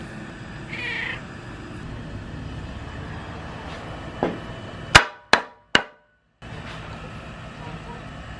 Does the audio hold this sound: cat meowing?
yes